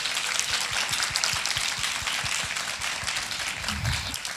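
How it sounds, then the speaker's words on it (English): An audience applauds a panel at the close of a leadership discussion, a sustained even patter of many hands clapping with no talking over it, heard from within the room. "Let's give them a round of applause."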